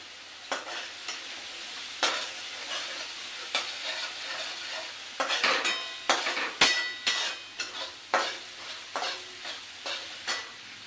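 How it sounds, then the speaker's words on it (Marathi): Alu vadi, colocasia leaf rolls, roasting in a hot pan: a steady low sizzle broken by repeated sharp spatula scrapes and clacks against the metal, coming in irregular bursts close up, with no talking. "आता हे मस्त असं भाजून घ्यायचं."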